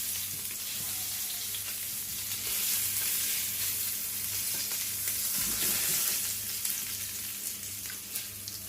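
Spiced duck breast sears in a hot pan, giving a steady, close, loud sizzle that holds evenly throughout with slight swells and crackles, and no voices over it.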